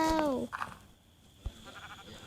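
Sheep bleat in a video game, one short wavering bleat at the start, then faint background sounds with no talking.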